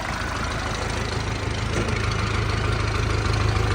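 A Jinma 504 tractor engine runs steadily at idle, a loud continuous low rumble with an even mechanical knock and no talking.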